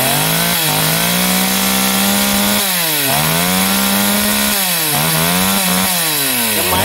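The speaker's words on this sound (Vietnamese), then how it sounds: "bắt đầu giật máy để cưa gốc" A chainsaw cuts into the stump of a eucalyptus tree near a road, its engine droning loud and close with repeated dips and rises in pitch as the blade bites into the wood, with no voices.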